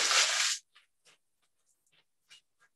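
Parchment paper is crumpled into a ball in a quick, loud crinkling burst, followed by a few faint, scattered crackles as it settles.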